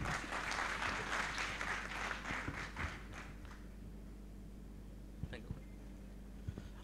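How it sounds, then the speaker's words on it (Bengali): Applause from an audience greeting Tuhin Miah, CEO of a .net agency, at a Think Outside The Box skill-development talk, a dense roomful of clapping that swells for about three seconds, then fades to a quiet hall with a few scattered taps. "স্যারের জন্য একটি জোরে করতালি আহ্বান করছি।"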